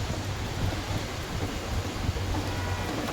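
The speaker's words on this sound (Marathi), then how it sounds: "एवढा पाऊस चालू आहे" Heavy rain falls in a steady, dense wash, with a low rumble underneath that may be distant thunder. The sound stays unbroken for a few seconds with no voices.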